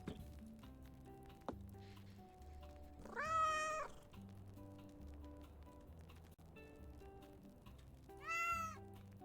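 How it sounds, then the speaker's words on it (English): A cat meows twice in the video game Vacation Cafe Simulator, short cute meows over steady, gentle background game music, with a pause of several seconds between them. "You can hear the little meows."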